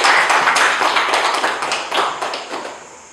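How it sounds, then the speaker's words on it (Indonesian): Students in a classroom clap for a classmate, loud close-up clapping with distinct individual claps in a quick uneven rhythm that gradually thins and fades out. "Tepuk tangan untuk Desi."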